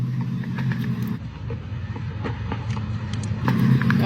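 A loud car engine rumbles steadily at close range, a heavy, continuous low drone that swells slightly toward the end, with no talking over it.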